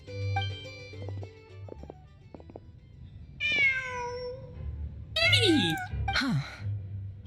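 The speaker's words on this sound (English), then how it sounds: "Just a cat." A cat meows several times in the Genshin Impact video game, drawn-out rising and falling cries standing out clearly over a steady low game ambience and soft background music.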